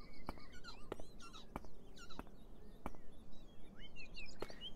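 Faint bird chirps and whistles from the video game Beyond Eyes drift over a quiet ambient backdrop, broken by a handful of evenly spaced soft ticks or steps.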